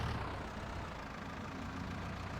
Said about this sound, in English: Take off the PTO load, and even though it's not a big load, and we're back to normal tractor